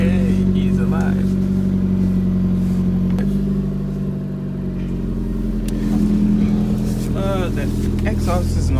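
A car engine with an exhaust leak runs steadily at a low idle with a rough, throbbing hum, while a person talks over it.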